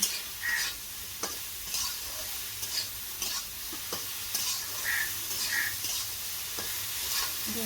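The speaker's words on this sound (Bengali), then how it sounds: "এখন ভালো করে নেড়ে চেড়ে বেগুনটা ভেজে নেব" Sliced eggplant with salt and turmeric fries in a pan on a village stove, a steady sizzle broken by repeated scraping stirs at a close, even rhythm.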